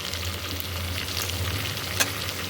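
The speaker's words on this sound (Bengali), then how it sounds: "এবার আমি দিয়ে দেবো কাঁঠালের বিচিটা।" Jackfruit seeds fry in a hot pan with a dense, continuous close sizzle and one brief stirring scrape near the end.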